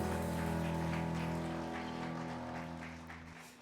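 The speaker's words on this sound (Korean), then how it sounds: "우리와 함께 하신 그 하나님께 감사와 영광의 박수 올리겠습니다." Congregation clapping during a Korean Sunday church service, a dense, even wash of applause that fades gradually toward the end, with sustained organ or keyboard tones underneath.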